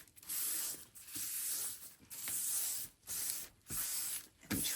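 A handheld spray bottle sprays about five times in a row, each a short close hissing burst with brief pauses between, no talk.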